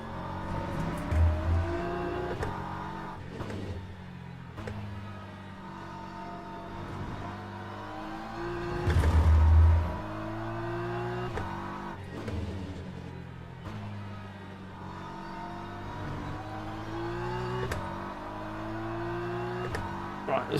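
A Porsche race car engine revs and shifts in Le Mans Ultimate, climbing and dropping in pitch through repeated gear changes, with a louder surge midway as other cars close in, all under steady talk.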